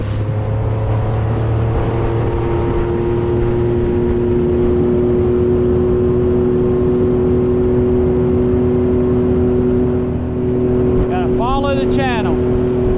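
A motorboat out on open water near a remote island beach throttles up onto plane, its engine a loud, steady drone with rising tonal whine throughout, and birds chirping briefly near the end.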